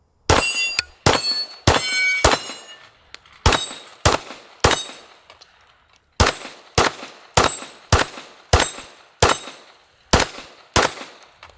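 Sharp gunshots from 2011-style pistols ring out in quick clusters of two to four, about fifteen loud reports over the span, each with a metallic clang and short ringing decay, with brief pauses between strings and no talking.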